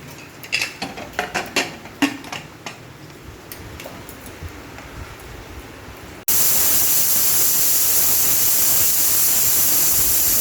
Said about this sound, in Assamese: এইয়া কুকাৰৰ হুইচেল মাৰিলে।